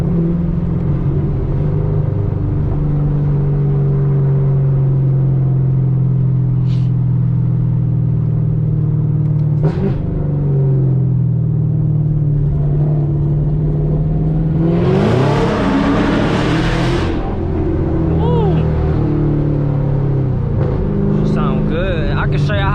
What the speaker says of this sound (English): Hopefully y'all can hear the exhaust.